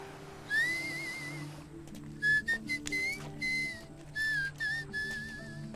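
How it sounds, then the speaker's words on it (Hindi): A person whistles without moving their mouth: a long clear note, then a string of short chirpy whistled phrases, close and fairly loud over a low background hum. "आप बिना मुंह हिलाए सीटी कैसे बजाते हो?"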